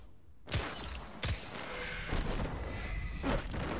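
Enemy gunfire in Destiny 2, several sharp booming shots spaced about a second apart, close and loud over a steady rumbling background.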